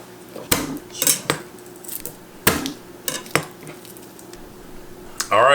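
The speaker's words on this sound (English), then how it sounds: "take the flat side of your knife, smash it down, and then the skin comes right off" Garlic cloves smashed with the flat side of a kitchen knife while preparing homemade spaghetti sauce: four sharp, close knocks at uneven intervals, with quiet handling noise between and a brief hiss at the end.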